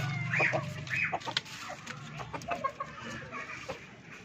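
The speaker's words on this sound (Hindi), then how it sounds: "अच्छा, मुर्गियाँ कैसे रखी हुई हैं?" Hens clucking and calling at close range around a rural household, several overlapping bursts and cackles over a steady low hum of farmyard background, with no talk.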